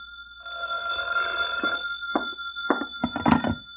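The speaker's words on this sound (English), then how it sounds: "Now he's phoning the Falcon" An old-fashioned telephone bell rings as a radio drama sound effect, a buzzing ring followed by several shorter bursts of ringing, close and clear over a faint steady tone.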